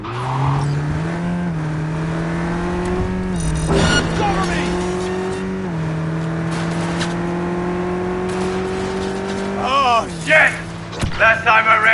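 A car tearing through a police chase in the video game Cyberpunk 2077, its engine droning loud and steady with gear shifts and rising revs, then tire squeals and impact clatter near the end, with no talking.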